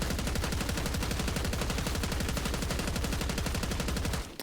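Full-auto GPR-91 rifle fire in Black Ops 6, shot with the recoil held down: a fast, even, unbroken stream of loud close shots lasting about four seconds, then stopping abruptly, with no talk.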